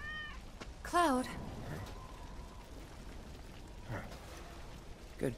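A cat in Final Fantasy 7 Remake lets out one clear, loud meow with a rising and falling pitch. Steady rain falls behind it, and a couple of faint, short sounds follow.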